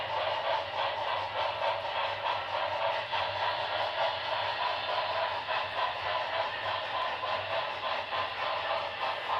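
Sound effects from a model GS4 locomotive running, a steady continuous chuffing rumble with hiss that holds at an even level throughout, with no talking.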